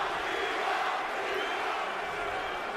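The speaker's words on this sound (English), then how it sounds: "And the crowd begins to chant," Boxing arena crowd roaring in a dense, continuous wash of voices, steady and fairly distant, with a chant buried inside the noise.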